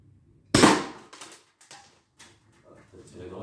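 A handgun fires a single loud, sharp shot into homemade ballistic gel, a close, abrupt crack followed by a short ringing decay, with people talking faintly afterward.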